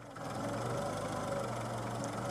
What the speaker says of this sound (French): le ralenti saute un peu, mais bon, c'est propre au moteur